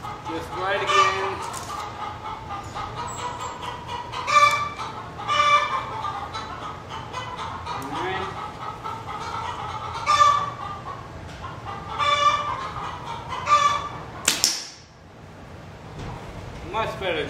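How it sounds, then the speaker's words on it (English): Chickens cluck repeatedly in a farmyard, close and fairly loud, in irregular bursts throughout, with a brief sharp bang near the end. "Chicken out of the way."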